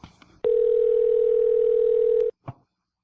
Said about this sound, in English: Do you want to call Tach for this